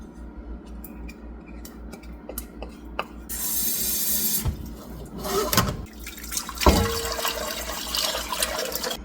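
Water and honey poured into a hot Dutch oven to make a 1-to-4 honey syrup for canning sliced peaches; a steady rushing pour starts partway in, then splashes and sloshing follow, fairly close with no talk.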